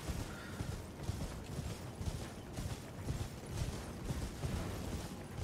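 Horse hooves in Elden Ring: Shadow of the Erdtree clop in a steady, faint rhythm under low in-game ambience, with no talk over them.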